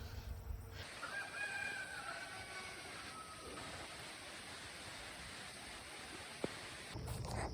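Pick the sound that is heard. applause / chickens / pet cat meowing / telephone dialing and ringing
chickens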